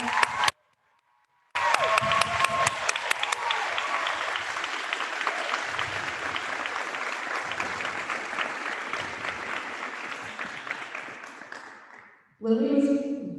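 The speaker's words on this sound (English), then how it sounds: "I think she deserves a round of applause for that." Lively audience clapping fills an awards night for speech and debate after a brief gap, holding steady for several seconds before fading out, followed by a voice starting to speak.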